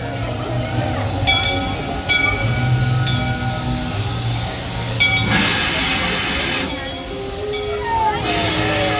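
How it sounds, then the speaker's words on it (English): A steam train rumbles and hisses loudly as it pulls into a station platform in Devon, UK, with bursts of escaping steam and a drawn-out squeal of slowing wheels. "you can watch as the glorious steam engine chuffs into view and stops alongside you on the platform"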